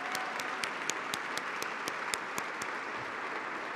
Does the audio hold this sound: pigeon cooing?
no